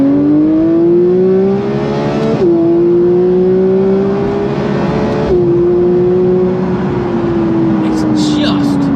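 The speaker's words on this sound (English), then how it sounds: "the sound of the new 992 GT3 and/or Touring" A Porsche 992 GT3 Touring engine revs loud and close, a steady high-pitched wail rising through the revs with two brief drops between shifts before easing down near the end.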